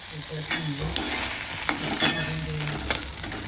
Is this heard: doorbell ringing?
no